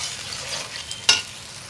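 Meat coated in chili sauce lands in a pan and starts to fry, giving a soft hiss and a single sharp stirring clatter near the end, close and without speech.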